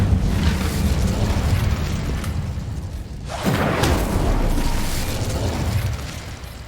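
Incendio fire spell cast in Hogwarts Legacy, a steady roaring whoosh of flame with a burst swelling partway through, loud and continuous with no talk over it.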